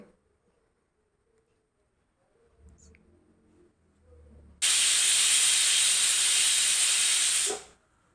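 A pressure cooker cooking jackfruit lets out a loud, steady steam hiss lasting about three seconds before cutting off sharply, after a few quiet clinks and soft rumbles in a kitchen.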